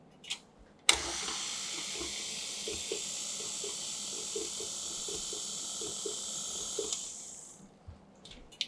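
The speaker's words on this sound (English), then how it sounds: "I'm just going to pop this in the stand mixer and beat for a few seconds" A stand mixer beats cupcake batter, a loud steady whirring hiss that starts abruptly, runs for about six seconds and then winds down, with no voices.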